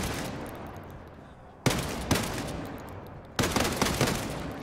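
Rapid gunfire in the video game Ghost Recon Breakpoint, two loud bursts of shots, each trailing off into a long rumbling decay, close and dominant.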